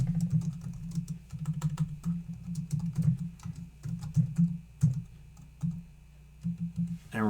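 Rapid typing of code on a computer keyboard, close and steady, with bursts of key clicks separated by brief pauses and no talking.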